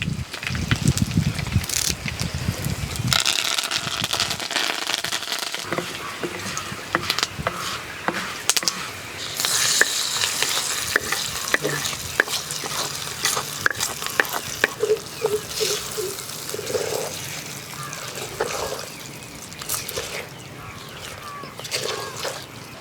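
Dried red chillies and curry leaves hit hot oil for a ridge gourd chutney tempering, giving a loud burst of sizzling and crackling that settles into steady frying, with stirring and occasional clinks close by.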